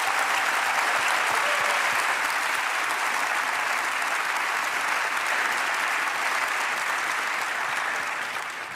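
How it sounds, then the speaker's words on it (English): Loud, sustained applause from a large audience at a European award ceremony, a dense wash of clapping that holds steady throughout and eases slightly at the very end. "You're allowed to clap"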